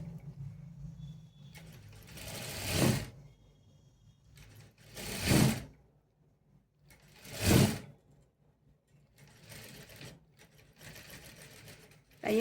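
A sewing machine set to long stitches runs along a three-dart blouse in three short, quick bursts separated by quiet pauses, heard fairly close and soft.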